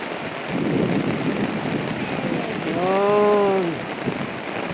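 Steady hiss of falling rain fills the air, with a brief tonal voice-like sound rising and fading partway through.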